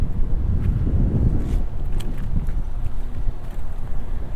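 Wind buffets a microphone outdoors beside a 2022 Mazda CX-9, a steady low rumble with gusty swells and no voices.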